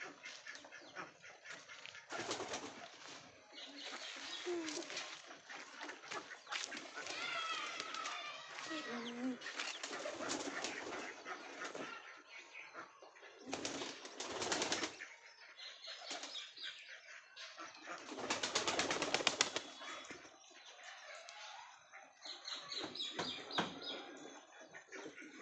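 Pigeons feed inside an enclosed loft amid faint coos, soft chirps and bursts of flapping wings, with a voice talking over them throughout.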